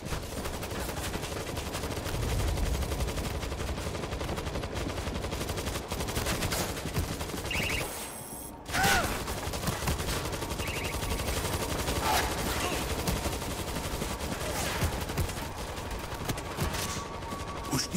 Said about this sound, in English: Stay clear of the auto turrets.